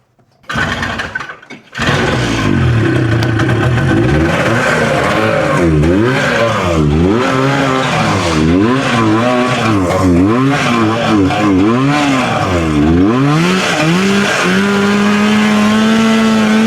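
A cheap used snowmobile with a carburetor problem, its engine revving hard at wide open throttle, loud and close, rising and falling in repeated surges through the whole run after a brief start.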